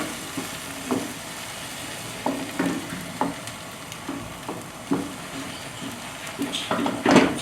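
An egg omelette fries in a pan while it is swirled for a Chinese omelette, giving a steady low sizzle broken by repeated soft scraping and pan-tapping bursts, the last ones louder and brighter.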